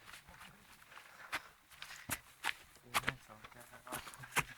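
Scouts walk on a night patrol in the early hours, their footsteps coming as irregular soft crunching steps, fairly faint and close, with low murmuring voices in the background.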